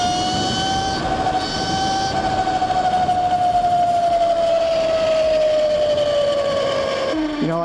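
A 72V Yozma IN 10 electric supermoto rides at 450 amps, its motor whining steadily at a gradually falling pitch over a constant loud rush of wind and road noise, close to the microphone.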